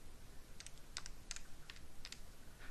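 Numbers being typed on a computer keyboard, about eight crisp keystrokes at an uneven pace, quiet and close, with no talk.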